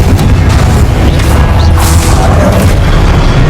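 Confringo blasting spell explosion in Hogwarts Legacy, a loud sustained booming roar filling the whole few seconds, dense and close with heavy low rumble.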